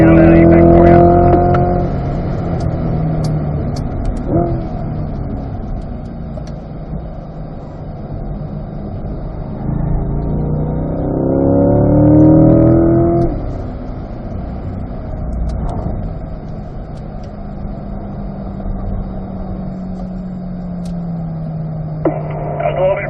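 A C8 Corvette drives through turns at Spring Mountain Raceway, with a loud, steady engine drone that rises and falls in pitch as it revs through the corners; the engine is heard throughout, close and continuous.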